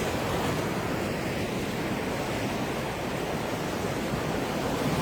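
Sea waves washing against the shore in a continuous, dense roar, heard close and fairly loud with a steady broadband hiss and faint wind, no voices over it.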